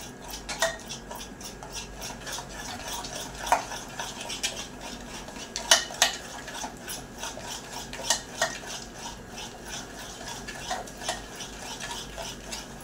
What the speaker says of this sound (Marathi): आणि थोडं तेल, 1 टेबलस्पून। हे फेटून घेऊया।